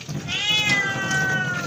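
A pet cat gives one drawn-out, whining meow that lasts well over a second, close and clear over faint background noise.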